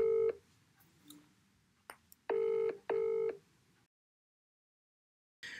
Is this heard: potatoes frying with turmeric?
no